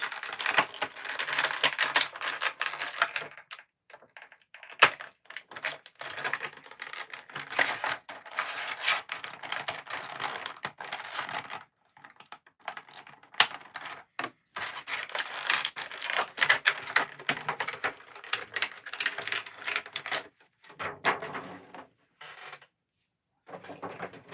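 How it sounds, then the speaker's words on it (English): Scissors snip through plastic ties on toy packaging, a string of close, sharp clicks and cuts in irregular bursts separated by short pauses, with no talking. "Just cutting off all the plastic ties."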